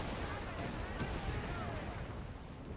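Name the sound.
gunfire in the video game Company of Heroes 3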